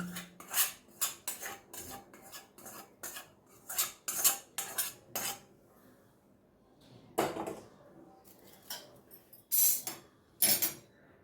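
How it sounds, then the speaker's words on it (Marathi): Chivda being tossed with spice masala in a metal pan, a Pune-style Laxminarayan mix, giving a run of sharp metallic clinks and scrapes in quick bursts, then a pause and a few more scattered clatters, with no talking. "आता आपण सगळं ह्यात मसाले याच्यावर सगळीकडे हा मसाला ओतून घेऊ आणि चालून घेऊ"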